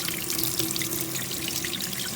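Kitchen tap running steadily while pork neck bones are rinsed under the stream, a close, continuous splashing hiss with small drips and trickles and no talking.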